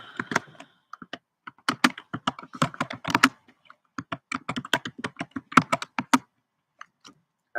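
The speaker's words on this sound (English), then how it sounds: "Let me type that out." Rapid bursts of close computer keyboard typing fill a room, with crisp clustered keystrokes, short pauses between runs, and no voices.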